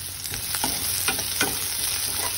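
Onion and garlic sizzling in a hot pan while being stirred, a constant close hiss with a few scraping stir strokes on top, no voices.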